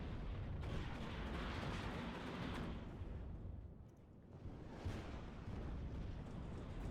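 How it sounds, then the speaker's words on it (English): Artillery fire rumbles in the real-time strategy game Warno, a faint, continuous wash of distant booms and low rolling thunder that dips briefly, then swells again, with no talk over it. "artillery coming in already"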